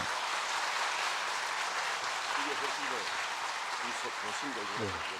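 A church congregation in Busan claps to welcome their pastor, a steady broadband wash of applause heard from some distance with a speaking voice running underneath.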